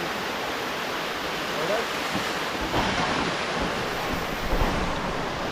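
A waterfall roars with clear flowing water, a steady broad rush with wind buffeting the microphone, and a voice speaks briefly over it.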